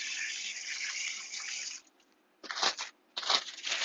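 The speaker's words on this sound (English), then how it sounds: "let me wash my hands" A kitchen sink tap runs steadily while hands are washed, then cuts off and comes back in two short splashing bursts, close and fairly loud with no speech.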